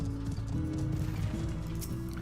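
A horse mount gallops in Final Fantasy XIV: Heavensward, its steady clip-clop hoofbeats running throughout over a dense, continuous layer of game music.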